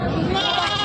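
Goat bleating at a goat market in Khamgaon, one loud, close, wavering bleat lasting under a second.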